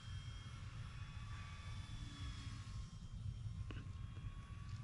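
An E-flite UMX P-51D Mustang RC plane at full throttle gives a steady, high-pitched electric motor whine with a faint shifting pitch, heard from a distance over a low outdoor rumble.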